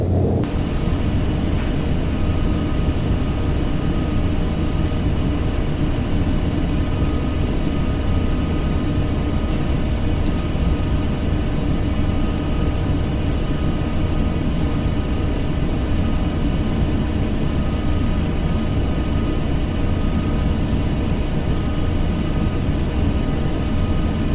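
Steady, loud engine drone and rumble of an airplane coming in to land in Flight Simulator X, a continuous unchanging roar with no distinct events.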